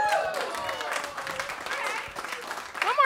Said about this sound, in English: One more time for Josh, everyone. Let him hear it